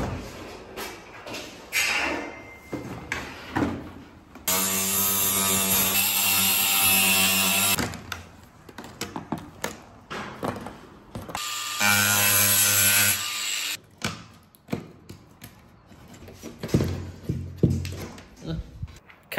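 Power drill boring two holes into a suspended ceiling to fit a recessed clothes drying rack, two loud sustained whining bursts of several seconds each, separated by quieter handling noises.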